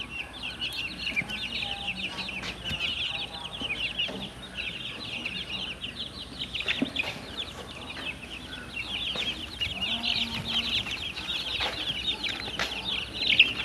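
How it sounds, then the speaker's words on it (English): Baby chicks about a week old in a homemade brooder keep up constant high, shrill peeping, many overlapping cheeps close by with occasional rustling and wing flutters. "So here's our baby chicks about a week later, 8 days."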